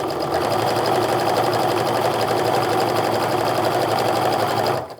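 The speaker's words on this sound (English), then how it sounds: "Now once I finish sewing down one side" A sewing machine stitches charm pack squares in one continuous, fast whirring run, loud and close, then stops abruptly at the end.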